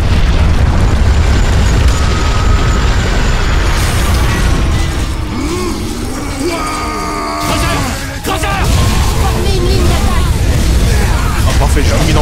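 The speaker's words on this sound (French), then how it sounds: "Les canons basilisques avec les immenses galettes." Basilisk cannons firing in the Space Marine video game: loud, dense booming blasts and rumbling explosions fill the whole stretch without letup, with mechanical clatter and tonal whines layered over the continuous roar.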